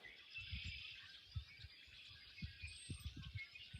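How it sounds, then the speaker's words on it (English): Birds chirp and sing faintly outdoors in a garden during spring planting, a steady high twittering layer over soft low thuds and rustling, with no speech. "The birds are just amazing."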